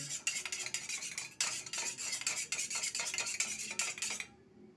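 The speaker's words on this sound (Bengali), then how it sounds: "এবার এটা খুব ভালো করে মিশিয়ে নিতে হবে" A spoon clinks and scrapes rhythmically against a bowl while mixing honey into coconut oil, with quick repeated strokes that stop abruptly at the end.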